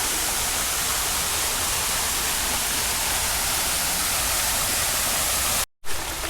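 A waterfall near a resort roars as a steady, dense rush of white water, loud and unbroken, with a brief gap near the end.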